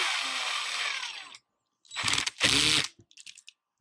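A power screwdriver drives a screw into a TRX-4 RC truck during a servo upgrade, its clutch slipping in a ratcheting clatter: a long steady burst, a pause, then two shorter close bursts and a few faint clicks.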